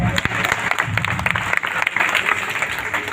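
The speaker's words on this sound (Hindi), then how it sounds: "ताली वाली बजा दो," Audience applause at a Hindi stand-up comedy and poetry show, a burst of lively clapping from a crowd that stays loud and close for a few seconds, with a few voices mixed in.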